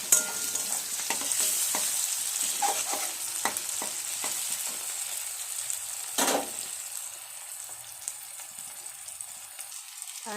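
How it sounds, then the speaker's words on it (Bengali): Vegetables being stir-fried with chow mein in a pan, a bright, close sizzle with repeated scraping and clattering strokes of the stirring utensil, loud early and thinning out after a sharp knock midway. "এগুলো চাউমিনের সাথে নাড়তে নাড়তে ভাজা হয়ে যাবে"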